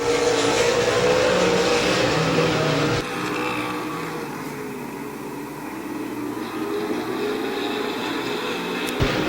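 Outlaw late model race cars roar around the Midvale Speedway dirt oval, engines droning loud and continuous with rising and falling revs as cars pass, set against a broad wash of track noise.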